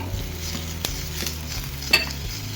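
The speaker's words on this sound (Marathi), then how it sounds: "तर आपण आता याच्यामध्ये टमॅटो टाकून घेऊया।" Tomatoes tumble into onions frying in a pan for restaurant-style paneer lababdar, giving a steady sizzle broken by a few sharp clinks and scrapes of a spoon against the pan, close and fairly loud.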